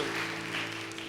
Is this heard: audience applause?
yes